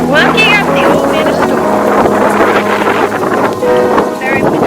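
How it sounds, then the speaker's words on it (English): Strong wind buffets the microphone continuously while hiking up the Old Man of Storr on Skye, a loud roaring rumble that fills the whole stretch as a voice talks underneath. "Very windy."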